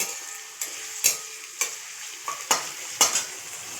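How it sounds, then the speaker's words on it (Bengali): Chopped onions frying in a pan for chicken Manchurian, a soft steady sizzle punctuated by six or seven sharp spatula scrapes and taps at fairly even intervals, close up with no talk. "পেঁয়াজ কুচিটা আমি ভেজে নিচ্ছি"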